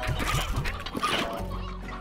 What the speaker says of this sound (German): Ah, ein altes Huhn nehme ich mit. Ein alter Gockel, den nehmen wir auch mit.